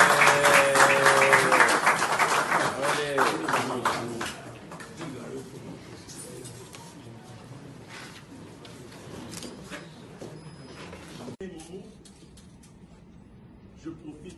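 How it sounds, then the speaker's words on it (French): Audience applause at a press conference for a new national football team coach, a burst of clapping up front that fades into scattered claps and quiet room noise, with voices heard at the start. "Il faut applaudir quand même."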